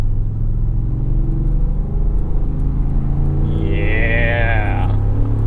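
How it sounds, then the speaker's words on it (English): A deep, throaty 5.0-litre V8 in a 2025 Ford F-150 Tremor pickup rumbles steadily up close, its tone climbing and swelling as it revs toward the end. "I love the sound and the character of this V8."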